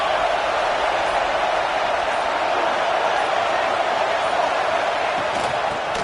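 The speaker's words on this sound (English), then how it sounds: "3rd down, and the crowd really getting into it." A packed college football stadium crowd roars through a third down at the Oklahoma v Oregon national championship. The steady, dense, loud wall of cheering stays sustained and unbroken.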